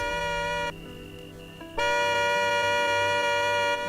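A car horn blares in one long, loud, steady tone with a brief dip partway through, ringing out clearly in a street scene with a faint background music bed.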